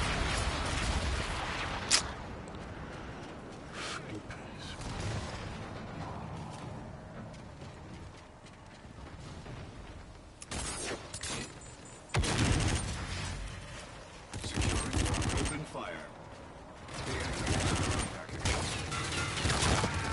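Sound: enemy artillery bombardment in a video game

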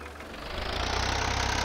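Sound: tractor engine running while being moved

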